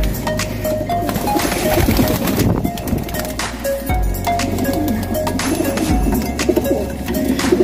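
Racing pigeons coo in a loft, low throaty calls repeating close and loud over a busy background of bird chatter and rustling.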